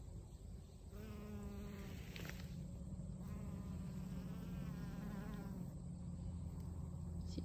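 A pollen-laden bee buzzing close among flowers on a flower farm, a steady droning hum with wavering pitch that lasts the whole stretch, loud and near, with no voices.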